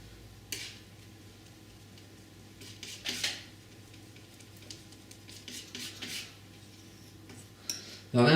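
A palette knife works oil paint on a palette, soft scraping and intermittent light metallic clicks and taps, close and quiet against a low steady background hum.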